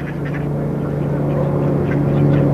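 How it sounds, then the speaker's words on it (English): Several ducks at Stone Mountain, Atlanta, quack repeatedly close by while being fed, a busy overlapping chorus of nasal calls over a steady low hum. "we're feeding the ducks"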